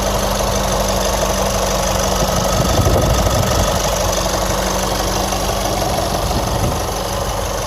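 The 2.8 liter Duramax diesel engine of a 2018 Chevy Colorado Z71 pickup idles steadily and fairly quietly, a low continuous rumble with a faint knocking texture and no voices.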